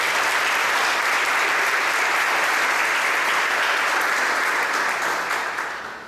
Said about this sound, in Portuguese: Queria que você aplaudisse essa palavra.